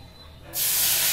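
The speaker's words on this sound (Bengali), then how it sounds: "এবারে যে চিকেনের জলটা ছিল ওটা ঢেলে দিলাম।" Chicken stock water poured into a hot pan, bursting into a loud, sudden hiss that holds steady after a quiet start.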